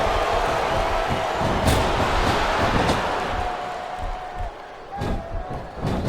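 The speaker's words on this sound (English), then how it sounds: "And the crowd has come alive tonight with a chant." Crowd chant in the WWE SmackDown vs. RAW 2007 wrestling video game, a loud arena roar with rhythmic crowd noise and sharp thuds, under commentary talk.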